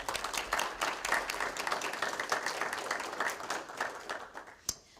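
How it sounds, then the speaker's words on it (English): Audience at a graduation ceremony applauds guest speakers, with steady, dense clapping from a sizable crowd heard across the whole stretch that fades slightly toward the end, ending in a single sharp clap. "please join me in providing a round of applause for our guest speakers"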